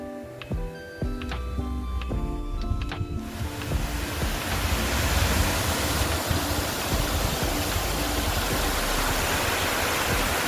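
Water pours over a full village dam after heavy rain. Quieter ticking and clattering come first, then a loud, steady, broadband roar of rushing water takes over and holds.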